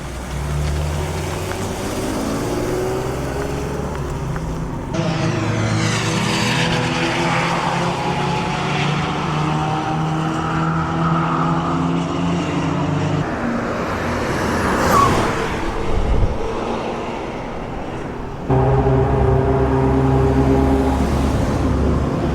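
A BMW E36 325i circles an F1 track, its engine a steady loud drone whose pitch climbs and falls through the revs, with noticeable gear changes along the way and no voices.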